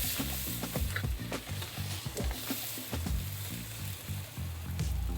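Fish maw pan-fries in a wok with a lively, continuous sizzle, broken by repeated rhythmic low thumps and scraping from tossing and stirring, close and fairly quiet overall.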